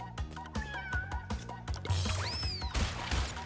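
A cat meows repeatedly in the Crash Bandicoot N. Sane Trilogy game, Pura the tiger cub's in-game mewing, several short cries over steady game music with a brief crash near the end.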